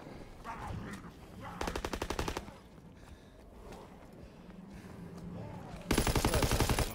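Automatic weapon fire rattles in two loud rapid bursts at the Zeppelin in Call of Duty: WWII Zombies, with quieter game noise and faint voices between them.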